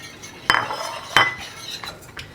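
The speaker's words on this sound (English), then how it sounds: "You want to make sure that you're stirring continuously while that flour is being added." A metal spoon or whisk clinks against a pot while flour is stirred steadily into homemade tomato soup to thicken it. There are two sharp, close knocks, then lighter scraping taps, and no talking.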